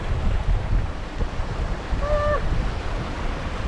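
Wind rushes in 22 knots of breeze while a sailboat moves through the water, a steady close wash of wind noise and waves with low rumbling buffets and a brief faint whistle-like tone midway.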